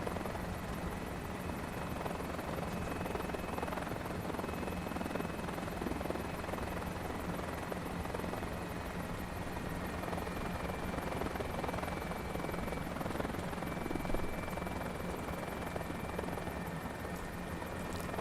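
Helicopter flying in Microsoft Flight Simulator 2024: a steady, continuous rotor and engine drone with a faint high whine, held at an even level throughout with no talk.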